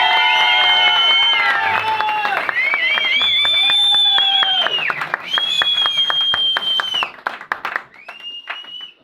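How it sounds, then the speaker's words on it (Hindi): An audience in a large hall gives loud, sustained applause mixed with many piercing, wavering whistles. The noise thins out toward the end. "तो एक बार जोरदार तालियां और सीटियां हो जाए उनके लिए।"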